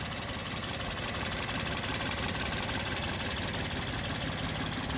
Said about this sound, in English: Listen to how quiet that engine is.